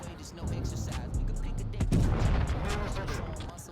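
Heavy booming tank cannon shots and rumbling explosions from a video game battle in a 3v3 tournament, several blasts in quick succession under a continuous low roar.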